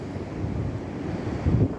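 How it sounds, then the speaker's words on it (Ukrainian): Stormy sea at an Odesa beach, with waves surging and crashing amid gusting wind that buffets the microphone, a continuous roar that swells louder near the end. "Море, звісно, просто біснується. Шторм страшний, на пірс вийти не можна."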